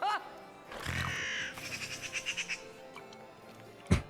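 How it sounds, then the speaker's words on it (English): Short chirping and squawking bird noises from Stolas, an owl-like cartoon character, come in a quick run of rhythmic chirps, with a crow-like caw and a sharp thump. "like the little bird noises that Stolas makes, very good."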